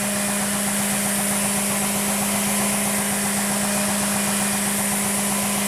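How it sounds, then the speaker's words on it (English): An air compressor feeding an ARO air chain hoist runs with a loud, steady mechanical hum and drone, unbroken from start to finish with no other sounds over it. "And there comes the compressor."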